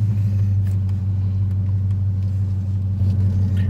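A Dodge Charger engine idles with a deep, steady rumble, close by and continuous, with faint clicks and small shifts in the background.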